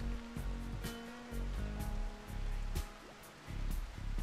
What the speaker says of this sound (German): Es regnet einfach dauerhaft, auch hier.